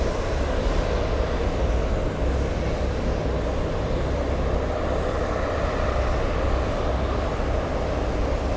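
Lufthansa Boeing 747-8 taxiing at Boston Logan airport, a steady broadband jet engine rumble and whine holding at an even level throughout, heard from a distance with no talking.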